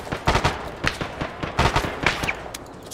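Gunfire in an Arma 3 firefight: sharp, close rifle shots in irregular bursts and single cracks, loud and repeated across the moment.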